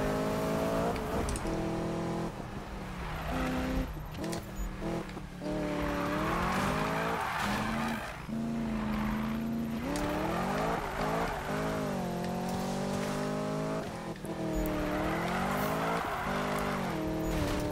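A Chevrolet Camaro Z/28 drifts in Need for Speed 2015, its engine revving up and down through repeated gear changes and throttle lifts, with tire squeal layered over the loud, continuous run.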